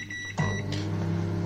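A DeLonghi microwave oven heating a can's contents for two minutes hums steadily up close, a constant low drone with a faint click and rattle as it starts.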